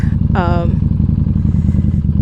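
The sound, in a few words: motorcycle engine running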